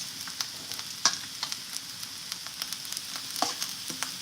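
Food fries on a stovetop with a steady bright sizzle, sprinkled with small pops and crackles at close range and no talking.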